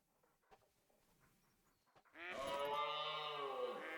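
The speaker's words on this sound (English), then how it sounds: "This cow screaming at us." A cow bellows loudly and close in a hunting game, one long wavering moo lasting about two seconds after a quiet stretch of outdoor ambience.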